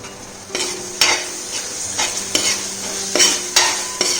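Chopped tomatoes go into a pan of frying Kerala-style chicken roast, and a spoon stirs steadily, giving loud repeated scraping strokes over a constant close sizzle with no talking.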